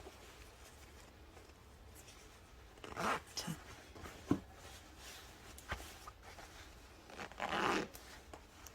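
A trouser zipper is handled during sewing, giving short scraping zips and rustling fabric at intervals, fairly quiet and close, with a few brief spoken words.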